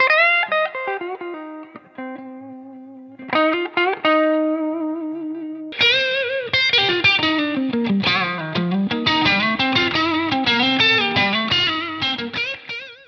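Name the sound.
electric guitar through Victory V130 amp, breakup blues rock tones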